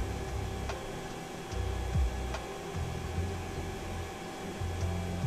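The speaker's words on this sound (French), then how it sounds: "c'est seulement les ventilateurs." Cooling fans of a Creality Ender 5 Plus 3D printer running at rest, a steady low whir with faint hum and a few soft ticks and low pulses, close and quiet, no voices.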